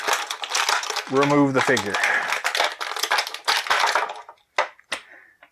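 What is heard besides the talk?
crumpling plastic packaging while unboxing a figure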